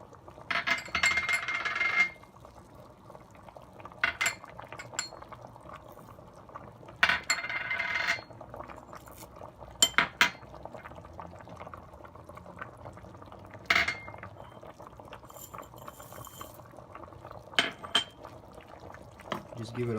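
Uzbek plov simmering in a pot, a steady close bubbling boil with scattered sharp clinks of utensils against the cookware.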